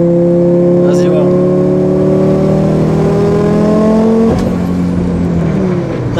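An Audi S2 five-cylinder engine revs steadily at partial throttle, roughly 40 percent, its loud harmonic drone climbing slowly before a sharp drop as the throttle lifts near the end, with some voices in the background.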